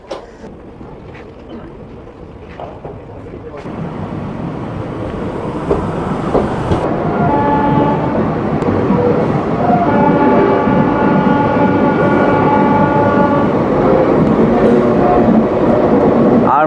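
A train near Prayagraj junction, quiet at first with faint sounds, then a rising, sustained rumble of the train building up and holding loud to the end, with tonal squeal or horn-like bands over it.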